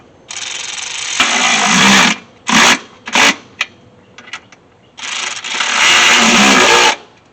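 Ratchet tightening the valve cover nuts on the engine of a 1974 Chevy C30 dually, heard close and loud in several ratcheting runs of varying length separated by brief pauses.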